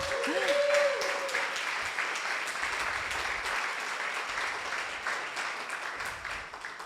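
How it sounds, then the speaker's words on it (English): An audience applauds the LA Poverty Department at an evening event on homelessness and art, a dense, steady wash of many hands clapping that holds for the whole stretch, with a brief tonal whistle or feedback squeal near the start. "give them a round of applause."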